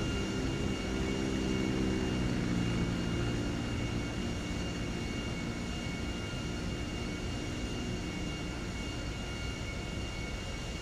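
A jumbo jet comes in to land at McKenzie Fields in GTA V, a steady broad engine roar with a low hum that fades slightly after a few seconds, continuous and with no speech.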